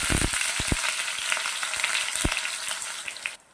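Cloves and chopped ginger hit hot oil in a home kitchen while cooking chicken, giving a loud, steady crackling sizzle with a few soft utensil knocks near the start. The sizzle cuts off abruptly at the end.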